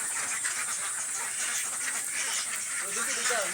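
Ducks quack in short bursts at a farmyard, moderately close, over a loud hissy background, with a voice speaking faintly beneath.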